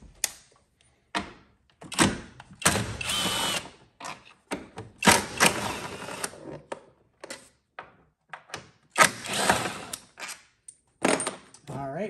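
Bolts come off the battery tray of a 2014 VW Passat TDI, heard as close mechanical clicks, ratchet whirs and clunks in short irregular bursts with pauses between them, no voices over the work.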